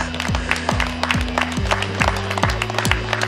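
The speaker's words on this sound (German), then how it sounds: "das ist euer Applaus." Audience applause for contest winners at a live event in Erfurt, brisk clapping from a crowd under steady tonal music, with a voice briefly audible.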